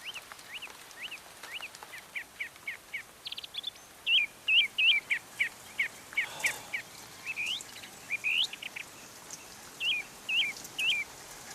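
A song thrush sings alone outdoors, repeating short, clear whistled phrases in quick bursts against a faint background hush.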